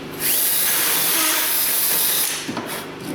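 Compressed air blasting from a blow nozzle while rust is cleaned off a Jeep Compass or Patriot rear knuckle during a bearing replacement: a loud, steady, close hiss lasting nearly three seconds, then tapering with a few short clatters.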